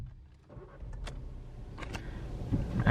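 Sitting inside a SEAT Ibiza 1.2 TSI FR SportCoupe, a door is pulled shut, giving a soft thud among faint interior clicks and rustles that build toward a firmer thump near the end.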